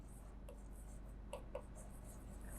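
A pen scratches across paper, writing out the narration for an accounting journal entry with quick, soft strokes and a couple of small taps, close by and quiet over a low background hum.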